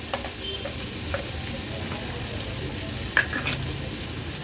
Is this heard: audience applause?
no